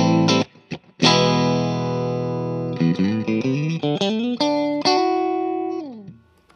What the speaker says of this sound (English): So this one is actually all three pickups on at the same time.